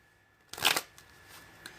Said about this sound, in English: I'm just going to go ahead and start shuffling now